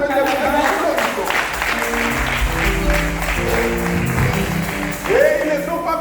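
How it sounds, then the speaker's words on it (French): A church congregation applauds at a church dedication service, a steady mass of clapping running the whole stretch with voices and other sound mixed in beneath it. "pasteur qui nous demande de faire des applaudissements."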